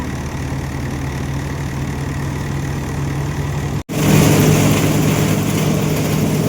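A tractor engine labours steadily under heavy load while cutting lush green crop, a continuous low drone with a brief dropout near the middle before it resumes slightly louder.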